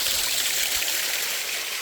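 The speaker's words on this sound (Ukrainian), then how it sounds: "Просто серед скель. Водоспад." A small waterfall tumbles among rocks near Zhytomyr, a steady close rush of splashing water that fills the short stretch without any voices.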